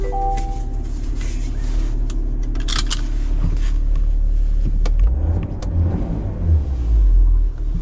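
An Ineos Grenadier diesel idles with a constant low rumble, heard from inside the cabin, with clicks and interior handling noises on top and the engine swelling briefly near the end.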